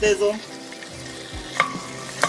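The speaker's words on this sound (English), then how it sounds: "Oh, that sizzle." Brussels sprouts sizzle loudly in a hot pan while caramelizing, with a steady crackle and a few sharp clinks of a utensil stirring.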